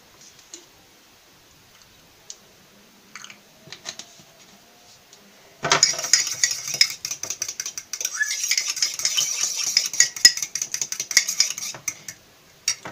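A spoon clinks and scrapes steadily against a bowl while stirring tahini salad with lemon juice and vinegar, a busy run of quick metallic taps and stirring after a few quieter clicks at the start.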